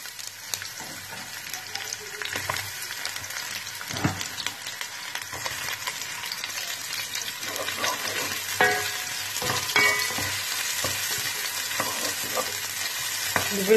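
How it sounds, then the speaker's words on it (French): Onions fry in hot oil in a saucepan, giving a continuous crackling sizzle up close with intermittent scraping and stirring clatter. "Nous faisons frire les oignons."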